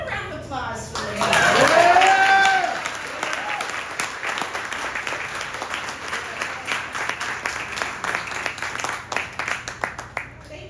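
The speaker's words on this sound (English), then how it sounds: "How about a round of applause for me?" Audience applause at a live storytelling event, starting with a short spoken line and a brief whoop, then settling into a steady wash of many hands clapping that thins toward the end, near and fairly loud.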